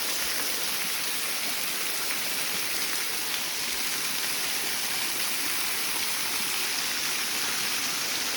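A waterfall roars in a steady, dense rush that stays constant and fairly loud throughout, heard close with no voices.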